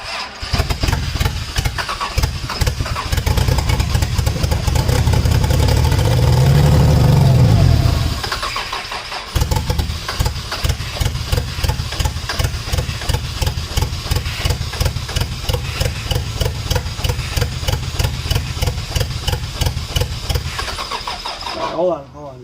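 A Toyota 2JZ engine in a car being revived cranks for several seconds, then fires and runs roughly with a loud, rapid, uneven idle close by, as people speak over it.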